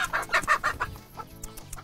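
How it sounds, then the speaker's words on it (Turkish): Chickens cluck inside a coop in a quick run of close, rhythmic clucks that trail off into softer scattered calls. "içeride ciddi bir tavuk popülasyonu var"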